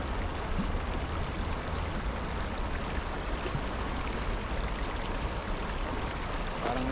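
River water flows steadily with a broad, continuous rushing wash, close and even throughout, with no voices.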